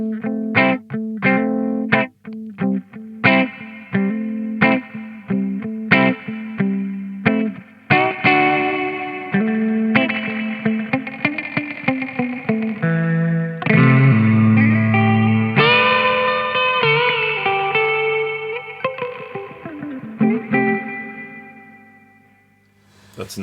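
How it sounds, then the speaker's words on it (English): Guitar played through a JRockett Mr Moto reverb and tremolo pedal on a clean sound: picked notes and strummed chords ring out with long, lush reverb tails, swelling and layering before a slow fade at the end. "That's a nice reverb."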